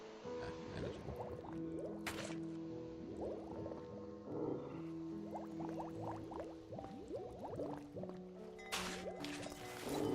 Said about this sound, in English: But there's something making a noise. Oh, it's a turtle.